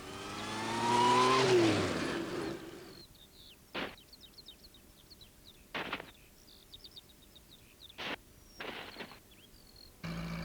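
Postman Pat's van speeds along, its engine revving loudly for about three seconds before fading away. Scattered bird chirps and a few sharp knocks follow in a quiet outdoor setting.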